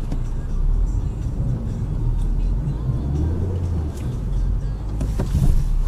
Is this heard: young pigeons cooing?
no